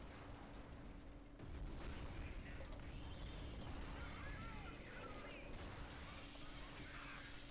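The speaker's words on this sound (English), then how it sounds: "Why is there so many explosions?" Explosions in the video game Alien Swarm, a dense continuous rumble of blasts and crashing debris, loud and sustained with no talking over it.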